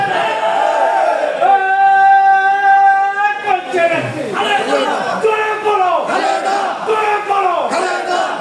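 A large crowd at a political rally in Bangladesh chants slogans in unison, loud and close, with a strong lead call followed by rhythmic repeated shouted responses from many voices.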